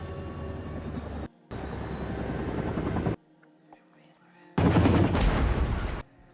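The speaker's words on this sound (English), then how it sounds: "that helicopter came back" Helicopter in the horror game Still Wakes the Deep, a loud chopping rotor thrum that cuts in and out in bursts with brief silent gaps, close and heavy, with no speech over it.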